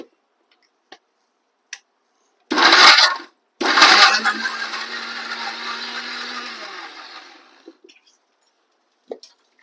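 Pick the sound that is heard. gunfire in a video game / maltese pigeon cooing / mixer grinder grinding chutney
mixer grinder grinding chutney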